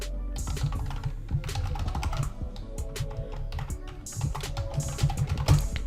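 Fingers type an email address on a computer keyboard, with rapid, close, crisp key clicks in uneven bursts and brief pauses, fairly loud and continuous throughout, with no voice.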